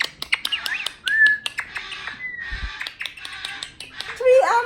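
An Amazon parrot squawks and chirps close by in a home, giving sharp calls and whistled notes amid clicks and handling noises, with short loud bursts spread across the moment.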